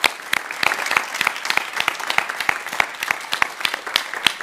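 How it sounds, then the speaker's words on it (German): Audience applause at a university study information day, a dense, steady patter of many hands clapping with sharp individual claps standing out throughout, fairly close and sustained with no speech over it. "Vielen, vielen Dank an euch, dass ihr das möglich gemacht habt und großen Applaus."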